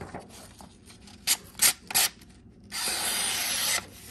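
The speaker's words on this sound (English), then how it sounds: "I have some paper right here that you could shred up." A Divo Buzz knife shreds standard printer paper, making three short, sharp scraping bursts followed by a second of steady papery rasping. The sound is close and moderately loud, with no talking.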